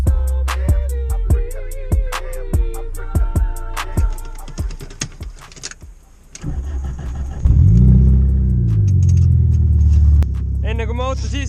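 A car parked outside in snow cranks over with a rapid series of starter clicks and rattles, then the engine catches and revs, swelling to a loud roar and settling, with voices briefly heard.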